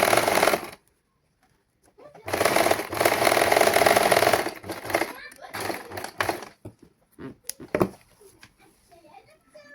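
A sewing machine stitches a saree blouse in sustained loud bursts of whirring, the longest running about two seconds, then breaks into short start-stop runs, with talking heard in the gaps.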